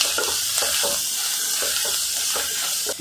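Turmeric and asafoetida tempering sizzling in hot oil for spicy kat vada, a steady close frying hiss with light stirring scrapes throughout.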